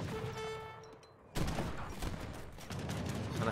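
Organ guns in a naval battle video game fire a loud volley, a dense burst of rapid overlapping shots following a brief tonal in-game sound.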